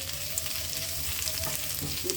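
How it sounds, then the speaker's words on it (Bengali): Onions fry in a pan for a fish bhuna, a loud, continuous sizzle with faint stirring and a few small pops. "পেঁয়াজ ভাজি করি, মাছ ভুনা করব।"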